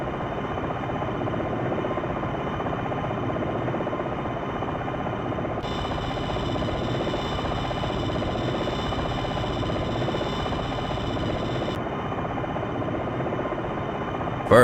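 Longbow attack helicopter hovering in a flight simulation game: a steady, dense rotor and turbine drone that holds unbroken throughout, with a thin high whine added partway through.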